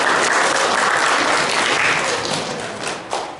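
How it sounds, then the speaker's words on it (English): Students at a school assembly burst into loud, dense applause for Dr. DeYoung; the clapping is steady and close, then thins and fades toward the end. "please give a round of applause to Dr."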